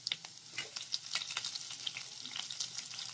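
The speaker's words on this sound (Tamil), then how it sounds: "எல்லாம் சேர்த்து ஃப்ரை பண்ணிக்கலாம்." Mustard seeds, urad dal, chana dal, cumin and chopped curry leaves fry in hot oil in a pan, giving a faint, steady sizzle dotted with small crackles and pops, with no talking.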